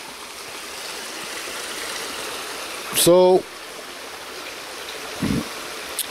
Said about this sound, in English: It's just using the siphon effect to pull the water out, and it's doing quite well.